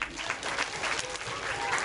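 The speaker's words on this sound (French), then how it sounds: "Merci beaucoup. On vous applaudit." An audience at a show in Lebanon breaks into steady, dense applause, a continuous wash of clapping hands from a crowd at moderate distance.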